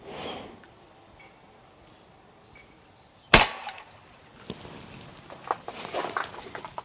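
A Stoeger XM1 air rifle fires pellets at a metal target about 10 metres away, giving one sharp, loud crack followed by fainter ticks and patters of pellet impacts against quiet outdoor background.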